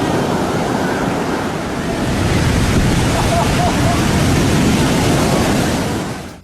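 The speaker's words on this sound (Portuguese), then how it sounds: "as ondas do oceano chegam à costa com força total" Powerful ocean waves break onto Lumahai beach on Kauai, a loud continuous roar of surf with heavy wind buffeting the microphone, swelling through the middle before dropping away at the end.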